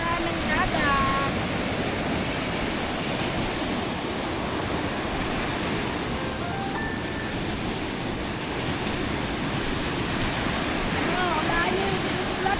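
Sea waves washing onto a beach shore, a steady, loud, broadband surf roar that continues without pause and stays close for the whole stretch.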